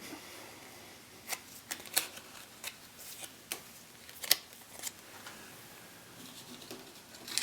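Playing cards for the Unfathomable board game being shuffled by hand, heard as soft, quiet riffling with scattered sharp snaps and flicks spread unevenly over several seconds, close by, with no talking.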